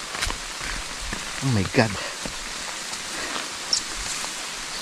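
Rain falls steadily during a climb up a Calvary hill, a soft continuous hiss under brief exclamations and voices, with a few scattered thumps.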